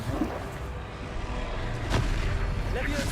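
A Confringo blasting-curse explosion from the Hogwarts Legacy video game bursts as a sharp boom near the two-second mark over a dense, rumbling bed of game effects and crackle.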